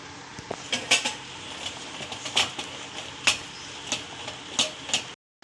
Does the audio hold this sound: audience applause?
no